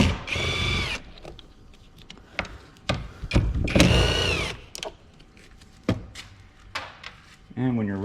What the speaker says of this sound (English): remove these three 10mm bolts